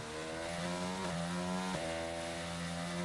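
Formula 1 race cars in the F1 22 game at the Brazilian Grand Prix, accelerating out of the final corner: a loud, steady high-pitched engine whine with rising gear-change sweeps, continuous over about three seconds.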